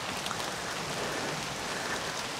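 Steady rain falls in the Apuseni Mountains, a dense even hiss of drops with no break, fairly close and moderately loud, with no voices.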